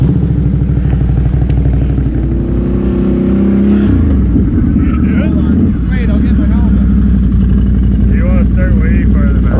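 A Polaris HighLifter 1000xp revs hard as it backs up, its engine clattering and surging loud and near with rising and falling pitch, while people shout over it.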